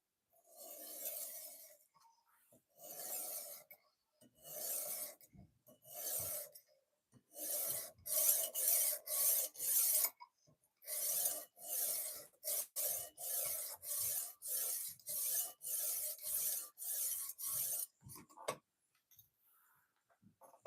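A cleaver-style knife blade being sharpened to raise a burr, heard as repeated rasping strokes against the stone in bursts, rhythmic and fairly close, separated by short pauses.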